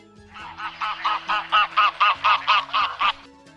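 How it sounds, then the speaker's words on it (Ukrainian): A family of domestic geese, mother, father and goslings, honks close by in a steady run of about eleven evenly spaced, nasal calls that swell slightly in the middle and then stop. "Це сім'я гусей. Мама гуска, папа гусак, малюки гусенята. Послухайте, як вони гогочуть."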